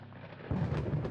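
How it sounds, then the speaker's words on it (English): Low thunder rolls through mountains during a windy night storm, heard from inside a tent, a deep rumble that swells partway through the short stretch with rain hissing beneath it. "the sound of some crazy thunder rolling through the mountains and the rain hitting down on our tent"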